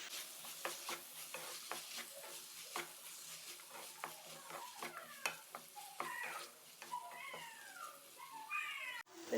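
A spatula stirs leftover roti fry with green peas in a sizzling pan, giving steady scraping clicks over soft frying, while a cat meows plaintively several times toward the end.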